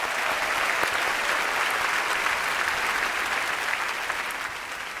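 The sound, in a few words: audience applause at Google I/O keynote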